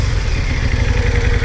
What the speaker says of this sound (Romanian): acum motorul merge foarte frumos.